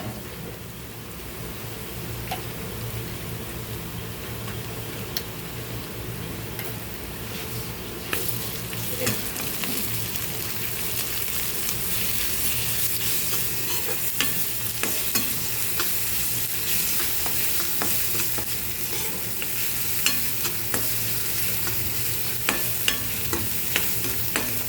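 Onion fries in a pan with ginger garlic paste and tomato puree, a steady loud sizzle running throughout with scattered crackles and occasional scraping, close up and without speech.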